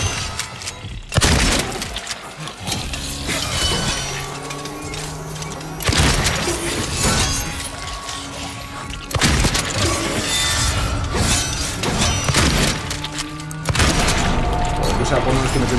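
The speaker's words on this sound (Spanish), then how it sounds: "Disparo de escopeta" Shotgun blasts in the Silent Hill 2 Remake hospital chapter: four loud, booming shots spaced several seconds apart, with rumbling game sound and a voice filling the gaps between them.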